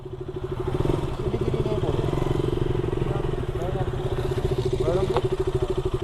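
Motorcycle ridden on the road between Kolkata and Siliguri, a steady close engine drone with a rapid pulsing exhaust beat held throughout, with brief faint chatter over it.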